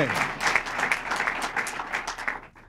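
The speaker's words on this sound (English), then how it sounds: "By the applause for this great president, you can see that he's in a warm and receptive audience" An audience applauds President Reagan at an event on the Task Force on Project Economic Justice, a short burst of lively crowd clapping with some murmuring that tapers off quickly at the end.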